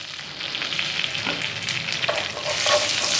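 Cumin seeds sizzle and crackle steadily in hot refined oil and butter, with bright frying hiss and small pops throughout, growing slightly louder toward the end.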